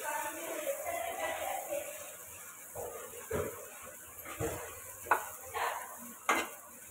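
Fried onion and tomato being mashed in a pan for egg bhurji: irregular soft thuds and scrapes of a utensil against the pan, close by, over a faint low sizzle with no voices.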